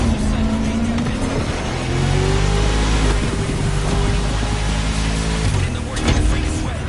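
A 1969 Mustang Boss 429 in the racing game The Crew, its engine roaring and revving hard in rising, falling pitch sweeps, loud and close, with faint talk mixed in.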